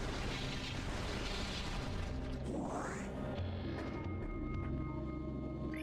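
Launcher weapon firing and its blast in the sci-fi game Metroid Prime 2, a roaring eruption of noise with a rising whine sweeping upward, then a fading, resonant rumble.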